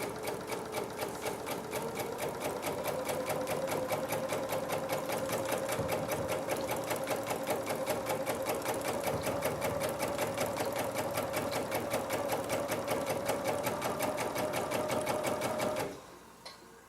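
A sewing machine runs steadily for about sixteen seconds, stitching along a fabric seam with a fast, even needle rhythm, close and loud, then stops abruptly; no one speaks.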